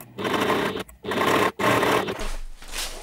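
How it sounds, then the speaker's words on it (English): A sewing machine stitches straight across fabric lining in loud, steady whirring runs, broken by two brief pauses and trailing off at the end, with no talking. "I'm going to take that to the machine and we're going to stitch straight across here."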